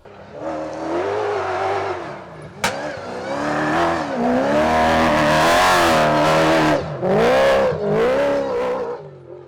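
Dakar rally car driven hard over a short rough course near Parc Astérix, its engine loud and close, revving up and down through gear changes with a sharp knock partway through.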